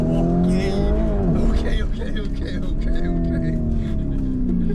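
A car rolls and revs on a New York street, engine tones rising and falling close by, with a faint tyre squeal. People talk over it throughout.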